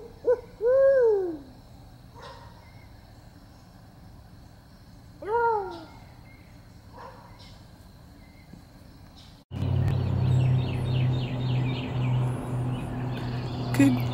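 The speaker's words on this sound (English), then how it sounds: "we thought we'd just share the owls with you" Owls hoot outdoors, a few clear, wavering hoots in short bursts separated by quiet pauses, followed by a sudden louder rumbling background with faint chirps.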